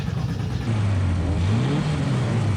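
Race car engines at Mallory Park fire up and rev loudly and close, a steady roar that climbs and falls in pitch through the whole stretch.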